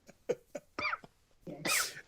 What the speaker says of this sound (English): That sounds like a dry cough.